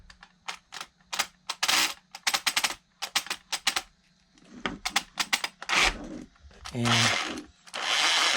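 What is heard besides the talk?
RC car motor running with damaged differential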